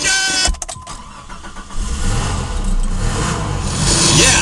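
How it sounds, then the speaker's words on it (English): A car engine cranks with a stutter of starter clicks, then catches and settles into a loud, steady running rumble that swells slightly toward the end, heard close. "Yeah, there's the start engines."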